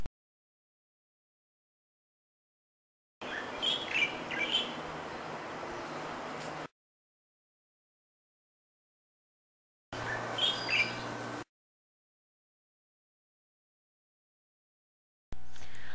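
Bird songs recorded at dawn in Okinawa in spring, heard as two separate short passages of chirping calls over a hissy background, with silence between them and a brief fragment at the end.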